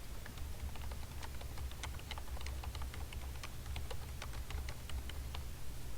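Fingers tap away on a computer keyboard in quick irregular bursts of crisp clicks, close by and fairly quiet over a low background hum.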